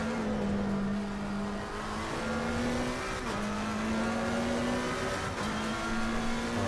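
A GT3 race car engine howls through a qualifying hot lap at Imola in a racing game, holding a loud, steady drone broken by brief dips at gear changes, with faint tire noise and no talking.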